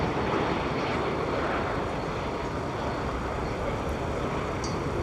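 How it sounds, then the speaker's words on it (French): Bombardier CS300 airliner coming in to land during a flying display at the Paris Airshow, a steady broadband engine roar that stays fairly even and distant throughout with no voices. "landing now the CS-300"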